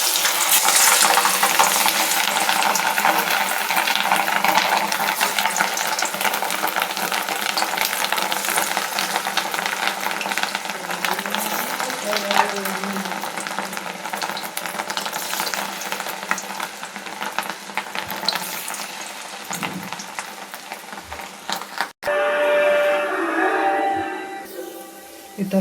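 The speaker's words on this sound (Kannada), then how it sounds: "ಈ ಥರ ಫ್ರೈ ಆಗಬೇಕು, ಉಬ್ಬುತ್ತಾಗಲಿ." Rava idli bondas fry in hot oil with a dense, crackling bubbling hiss that slowly eases off, then a brief break followed by a quieter stretch of sizzling with clinks.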